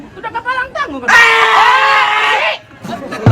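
During a Betawi palang pintu wedding tradition, a person lets out a loud, sustained scream of about a second and a half, with brief speech before and after.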